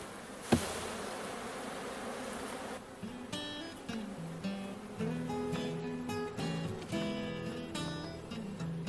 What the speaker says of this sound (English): removing the hardworking bees from the frame